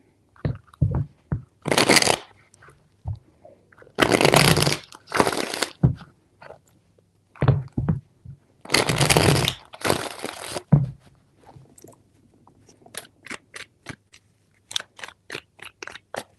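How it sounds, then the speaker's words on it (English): Tarot cards shuffled repeatedly up close: four bursts of crisp riffling separated by clicks and taps of the deck being squared, ending in a run of quick light snaps. "Three shuffles."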